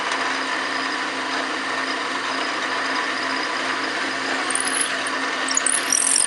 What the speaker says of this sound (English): And now I'll go ahead and drill